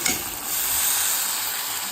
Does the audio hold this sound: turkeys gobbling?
no